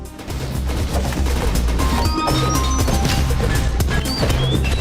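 Gunfire from slide shooting in a video game shown at Microsoft's Gamescom 2015 press conference: dense, loud, continuous bursts and crashing impacts layered over tonal game music, with no pause for the whole stretch.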